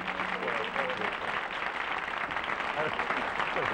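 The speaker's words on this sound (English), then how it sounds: "those are real people applauding" A studio audience on a television talk show applauding, a dense steady wash of clapping that holds throughout, with people talking over it.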